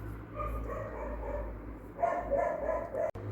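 A pet dog barks at a neighbour somewhere in or near a home, the barks sounding muffled and moderately distant against a steady low hum, with no talking.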